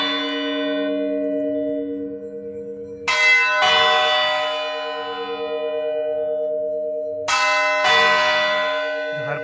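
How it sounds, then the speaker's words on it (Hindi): Large clock-tower bell of the Hooghly Imambara ringing alone, two loud struck tolls with long, humming metallic decay that sustains between strikes and rings on after each. "आप देख रहे हो यहाँ पर है घंटा"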